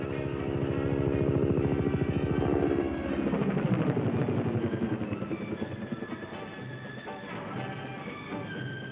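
Attack helicopters fly past with a loud, throbbing rotor and turbine drone. The pitch sweeps downward as they pass, then settles into a steadier, slightly fainter hum.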